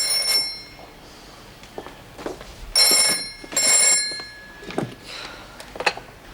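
Old-style telephone bell ringing in a detention centre office, two sustained bursts of loud metallic trilling with a pause between and brief noises around them.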